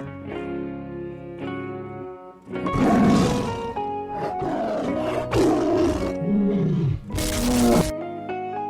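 A cartoon tiger in a forest roars several times, loud and close, in long snarling bursts over a background of musical tones, with no talking.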